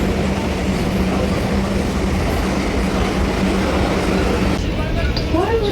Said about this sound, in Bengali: আর এখান থেকে মেট্রোয় করে যাব শোভাবাজার।